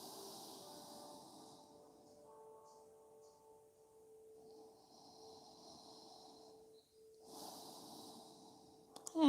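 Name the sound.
breathing through the nose during yoga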